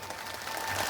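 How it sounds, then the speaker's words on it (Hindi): Audience clapping at a village gathering in Dhanwar, Balaghat district, a brief burst of many hands applauding together, fairly loud and sustained, swelling slightly toward the end. "ताली जोर से बजानी होगी।"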